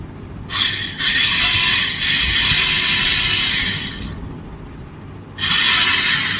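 A small robot's motor-driven wheels spin up after power-on, giving a loud, high-pitched mechanical whir that runs for several seconds, drops away, then returns abruptly.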